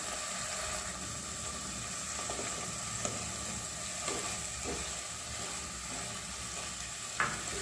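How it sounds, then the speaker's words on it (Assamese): Sesame paste with turmeric and salt frying in a pan for an Assamese shol fish curry, sizzling steadily with occasional scrapes and taps of the stirring spoon, heard close and alone. "এতিয়া এইখিনি ভালদৰে ভাজি ল'ব"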